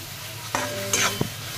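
Onion and coconut paste being stirred into kaleji (liver) masala in a pan, a couple of short scraping stirs over a faint background, close and fairly quiet.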